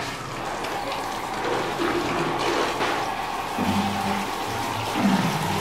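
Water pours steadily to rinse foam cleaner off a dirty surface, a continuous rushing splash at moderate loudness that swells slightly near the end.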